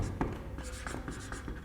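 Chalk or marker writing on a board during a chemistry lesson, faint scratchy strokes in an irregular rhythm, close and quiet.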